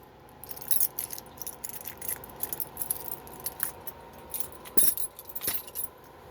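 A ring of keys jangles in short, bright bursts of metallic clinking, close to the listener and fairly loud, with quiet pauses between shakes.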